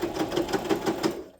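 A sewing machine running a zigzag stitch through fabric for a heart-shaped purse, a close, steady rapid chatter of needle strokes that fades at the end.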